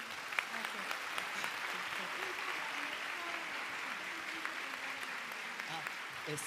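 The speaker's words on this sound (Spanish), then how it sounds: "me gustaría que le dieran un fuerte aplauso a la doctora" An audience at a scientific lecture applauds the speaker, steady moderate clapping across the whole stretch with faint voices murmuring underneath.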